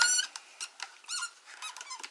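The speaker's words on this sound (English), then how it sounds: "it's making a super squeaky noise for some reason" An inline skate wheel squeaking as it spins against a slightly bowed frame, a run of thin, high chirps and squeals in quick irregular bursts, close and fairly quiet, with no voices.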